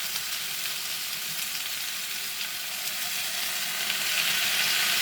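Vegetables fry with soy sauce in an Elite Gourmet personal skillet, giving a steady, close hiss and sizzle that holds level throughout and swells slightly near the end.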